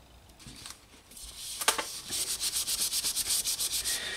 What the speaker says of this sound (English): I need to sand it down a little bit, get rid of those paint chips over here